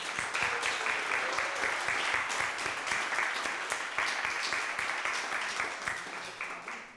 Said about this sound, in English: Can we give one final round of applause for all of our speakers?